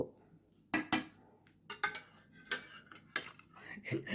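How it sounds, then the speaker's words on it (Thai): A spoon scooping jelly into a sago dessert in a bowl: sharp, spaced clinks and scrapes of utensil against dishware, close and distinct, with quiet moments between strokes. "นี่ทำวุ้นเสร็จแล้วค่ะตักใส่ซักคู"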